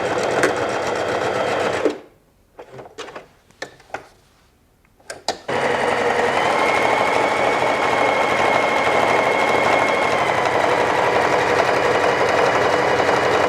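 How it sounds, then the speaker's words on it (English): A sewing machine runs loud and close as fabric straps are stitched down their length, stopping briefly for a few clicks and handling noises before whirring steadily again. "sewing it down the entire length to the bottom"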